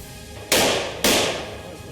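Two sharp, loud gunshots on CCTV footage, about half a second apart, each cracking suddenly and then fading quickly.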